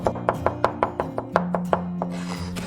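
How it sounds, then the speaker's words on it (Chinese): A kitchen knife mincing crushed garlic cloves on a cutting board: about a dozen quick, crisp chops in an even rhythm, close and fairly loud, with no talking. "准备几颗大蒜，先拍碎， 然后切成蒜末。"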